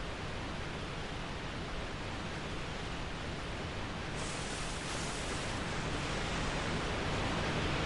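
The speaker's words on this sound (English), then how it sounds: "You can still hear me over this running waterfall." Steady rushing roar of a waterfall in Dark Souls 2, broad and constant throughout without variation or speech.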